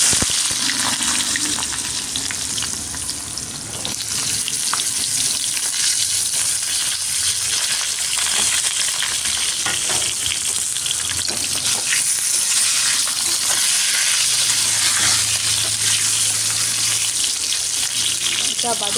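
Eggplant fries in hot oil over a high gas flame, a loud, close, continuous hiss and sizzle with occasional stirring noises and brief voices underneath.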